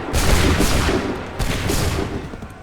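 A musket volley in Assassin's Creed III Remastered: a loud, close burst of massed shots that rolls into a long rumbling crackle, then a second volley a moment later.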